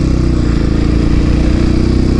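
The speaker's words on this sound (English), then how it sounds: "I don't know if you can hear that exhaust." A Royal Enfield Classic 500 motorcycle's exhaust thumps steadily while riding around town, a loud, close, even single-cylinder drone with a rapid regular pulse throughout, no voices over it.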